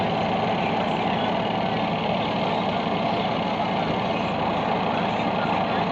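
A clothes dryer motor hums steadily and loudly up close, a constant low droning with no pauses or change in pitch.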